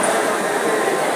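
A train rumbles and roars loudly at Sealdah railway station in Kolkata, a dense, continuous rolling noise close by that lasts through a short stretch.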